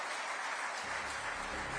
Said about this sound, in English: Let's keep the applause going